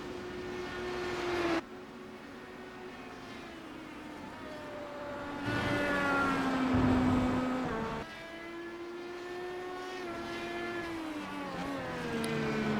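An IndyCar race car at Road America screams past at speed, its high engine whine rising sharply, then dropping as it recedes, while other cars are faintly heard in the distance.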